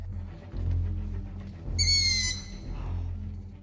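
An owl in the Roblox game 99 Nights in the Forest gives a single bright, drawn-out hoot partway through, over a low, steady rumbling background.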